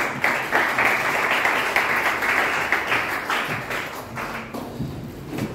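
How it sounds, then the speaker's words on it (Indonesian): A church congregation applauding together, dense rhythmic clapping from many hands that holds strong for several seconds, then thins and fades near the end. "Beri tepuk tangan bagi Tuhan."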